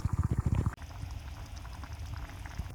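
Blanched nettles dropped into a simmering pot of nettle soup, a brief splashing thud over a steady bubbling boil that continues close and moderately loud.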